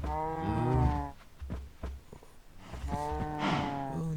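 Cattle in Minecraft give two drawn-out, close moos, the second starting after a short gap, with no talk over them.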